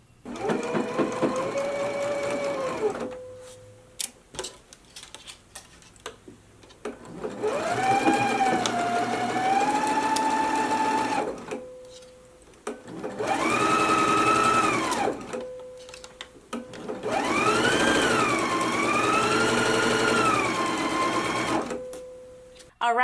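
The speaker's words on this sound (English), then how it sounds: "we can go to the machine, stitch it at a 5/8 of an inch seam allowance, and then finish off your seam" Sewing machine stitching a sleeve seam at a 5/8 inch seam allowance, whirring in four long runs separated by short pauses, with a voice talking in between.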